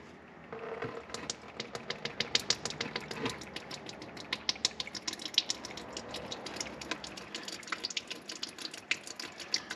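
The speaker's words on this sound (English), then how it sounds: "And you open this here valve, which is the water separator valve." Water and diesel fuel draining from the opened water separator valve on a 2022 Ram 1500 EcoDiesel, a steady close trickle with dense rapid ticking and splashing through the whole stretch, no voices.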